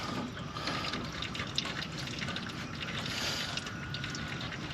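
Green coolant drains from a John Deere 4045T engine on an Atlas Copco 375CFM air compressor, a quiet, steady trickle and splash of liquid running without a break.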